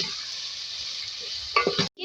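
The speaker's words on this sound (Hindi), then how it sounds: "इसको फ्राई करेंगे।" Whole spices, including black cardamom, cloves and black peppercorns, fry in hot oil with a steady close sizzle, followed by a few sharp stirring scrapes against the pan before it briefly cuts off.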